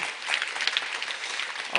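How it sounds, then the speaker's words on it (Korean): An audience applauds after a speech, a steady, dense wash of clapping that holds evenly for about two seconds. "저에게 오늘 박수를 보내주신 여러분"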